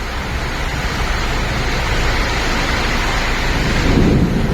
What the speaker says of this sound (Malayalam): മൊത്തം ഇടിയും മഴയൊക്കെയാണ് കേട്ടോ